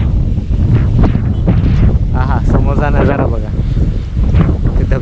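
Strong wind buffets the microphone in a loud, continuous low roar over grassland at Shelu, with a person talking throughout over the gusts.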